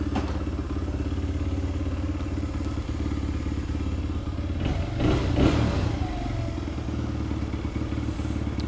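A Honda CRF100 dirt bike engine runs at a steady idle after a kick start, a loud close putter with a brief rise and some clatter midway.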